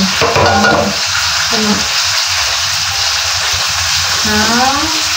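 Fish dropped into a pan of sautéing onion, ginger and chili, frying with a loud steady sizzle and stirring throughout, with brief speech at the start and end.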